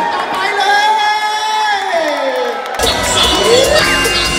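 Children and an audience shout and cheer at a Christmas family concert, loud and continuous, with a whooping voice rising over the crowd.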